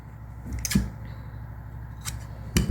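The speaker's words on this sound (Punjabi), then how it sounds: "ਹੁਣ ਇੱਥੇ ਵੀ ਕੱਟ ਲਗਾ ਦਿਓ" Scissors cut fabric for a frock bodice with a few crisp, close snips separated by pauses, alone with no talk.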